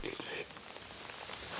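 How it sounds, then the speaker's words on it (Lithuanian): Rain pounds outside an abandoned chapel at night, a faint, steady patter on surfaces heard from indoors with low ambient hiss. "tik lietus belia kaip daužo"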